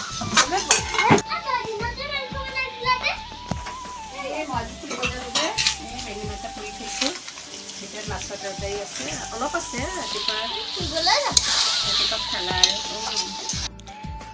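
Local chicken cooking in a pan in a home kitchen, with a steady sizzle and occasional clinks of utensils against cookware while people talk throughout.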